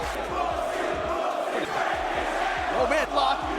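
A wrestling arena crowd roars and chants in steady rhythmic waves throughout a match, loud and dense, with a few sharper shouts rising near the end.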